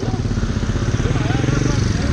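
A scooter engine revving steadily and close by as riders try to push through a blocked road, a continuous buzzing drone with a pulsing rhythm.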